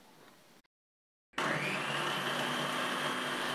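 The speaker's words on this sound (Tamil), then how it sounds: "இதில் வந்துட்டு நான் வந்து வெங்காயம் கட் பண்ண போகிறேன்." A Butterfly Cresta food processor chops halved onions: after a short silence its motor starts with a loud, steady, close whir that runs without a break.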